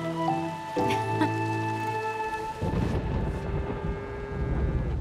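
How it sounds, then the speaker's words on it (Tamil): First rain of the season begins, a soft rush of falling drops rising after a couple of seconds beneath a steady background tone. "இது ஃபர்ஸ்ட் ரெயின் மாஸ்டர்."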